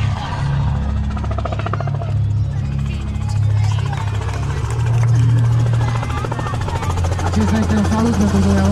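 Helicopter performing at an air show, its steady low engine drone and rotor buzz continuing loud and close throughout, with announcer speech and crowd sounds mixed over it.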